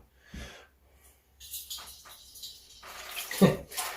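A homemade Murray cod fishing lure is pulled through water, bringing short splashy swishes and sloshing bursts that grow louder toward the end, with faint voice in the background.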